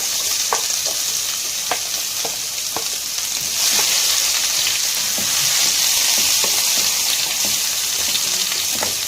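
Chopped onion fries in a pan with one spoonful of oil, a loud, steady close-up sizzle broken by occasional pops and clatters of stirring, with no voices.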